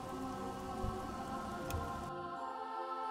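Rain falls steadily in the video game Oblivion as a continuous hiss of drops with a faint tonal background, then cuts off abruptly partway through, leaving quieter ambience.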